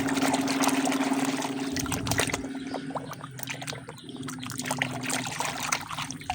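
Water trickles and splashes continuously nearby while muddy toy cars and trucks are being washed, a steady wet dribble with small irregular drips throughout.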